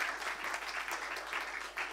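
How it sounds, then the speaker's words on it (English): A crowd applauds for a speaker from the European Investment Bank, dense steady clapping filling the whole stretch at moderate loudness with no voices over it. "a big applause for Andrea Ferencikova"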